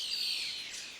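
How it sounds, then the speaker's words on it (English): Song of an ocellated antbird in Panamanian rainforest, a steady high-pitched whistled phrase held for about a second, fairly clear against quiet surroundings with no talking. "What's that song, Carlos? Ocellated antbird."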